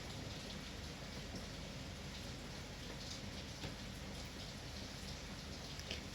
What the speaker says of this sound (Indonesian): Bogor hujan lagi dong. Aku suka suara rintik-rintik hujan.